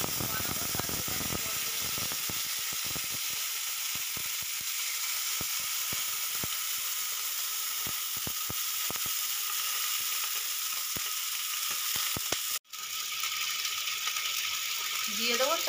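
Steady loud sizzle of water hitting a hot tempering of bay leaf, dried chilli and cumin in oil, crackling continuously with small pops and a brief stir clatter near the end.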